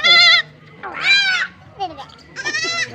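A goat that is chewing on a toothbrush bleats loudly and repeatedly close by, four strained, wavering cries separated by short gaps, with people talking faintly in the background.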